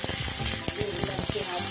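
Small cubed onions hit hot oil for chili paneer and crackle loudly, the sizzle dense and close with quick bursts of popping.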